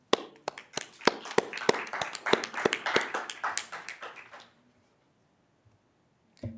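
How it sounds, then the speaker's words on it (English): A small audience at a stakeholders forum gives a short round of applause, sharp distinct claps in a brief burst that fades out after about four seconds, leaving quiet. "So a great round of applause for our staff from the Amistad Dam Field Office and Power Plant."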